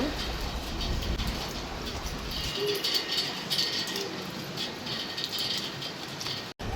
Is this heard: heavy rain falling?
yes